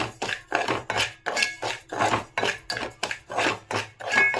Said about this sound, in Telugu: ఇప్పుడు దీన్ని కొంచెం డ్రై రోస్ట్ చేద్దాము